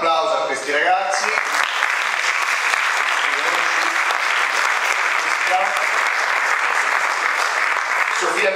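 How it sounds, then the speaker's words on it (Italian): An audience at an Italian opera heritage event applauds art high school students: loud, sustained, dense clapping that fills the room, with a voice briefly heard at the very start. "un applauso a questi ragazzi."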